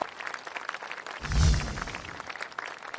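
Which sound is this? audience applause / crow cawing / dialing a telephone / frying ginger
audience applause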